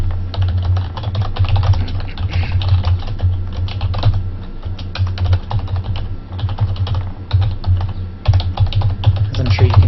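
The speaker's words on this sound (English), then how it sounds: "As I'm sure you can hear the clickety-clack of my keyboard." Rapid clickety-clack typing on a computer keyboard during a live stream, a dense, steady run of close keystrokes with a low constant hum beneath.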